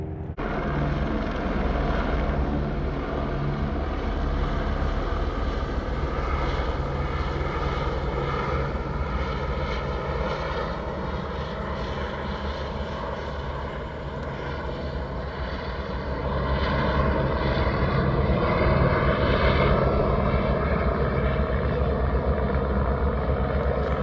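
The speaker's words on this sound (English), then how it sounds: "there's like a helicopter that keeps coming over and dropping off things" A work helicopter ferrying loads at Lake Mead passes overhead, a loud, sustained engine and rotor drone that holds steady, dips slightly midway, then swells again toward the end, with no talking.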